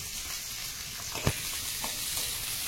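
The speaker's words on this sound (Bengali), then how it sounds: "পেঁয়াজ রসুনটা একটু ভেজে নেবো।" Chopped garlic and onion frying in a little oil in a kadai: a steady, soft sizzle with one brief clatter partway through, no voices.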